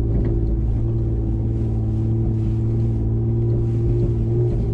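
A lifted vehicle ploughs through a deep sand rut on a beach by day, its engine droning in a loud, continuous low rumble with a rough, churning texture throughout.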